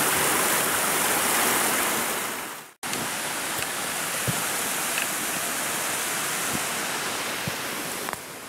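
A mountain creek flowing at a trail crossing, a steady close rush of water hiss and splash, unbroken except for a brief cut partway through.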